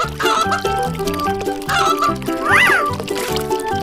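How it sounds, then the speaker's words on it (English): Chicken clucking sounds in a children's animal-crossing animation, set over bright, bouncy music with a rhythmic beat and a rising-and-falling tone sweep; the sound is loud and close. "chicken."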